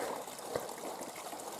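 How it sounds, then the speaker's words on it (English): A small year-round creek flows in a steady, close, continuous rush and trickle of water with no voices. "It's a year-round little creek."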